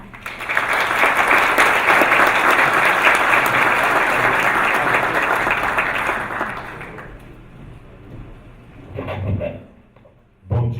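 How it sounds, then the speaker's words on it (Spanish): Strong audience applause at a business event welcoming a Colombian entrepreneur, loud and sustained for about seven seconds before fading, then brief rustling and a short burst of sound near the end. "Recibamos con un fuerte aplauso al señor Carlos Franco Amasta."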